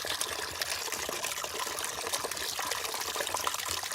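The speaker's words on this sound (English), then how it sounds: "Got the water turned on. It's flushing its way back to the engine." Water from a hose flushes through a 2003 Cadillac CTS radiator and pours into a pail, a steady close trickling and splashing stream at even loudness with no talking.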